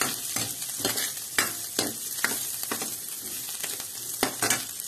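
Garlic sizzling in butter in a hot pan for a stir-fried vegetable dish: a steady bright hiss, with around ten spatula strokes scraping through it at a brisk, uneven pace.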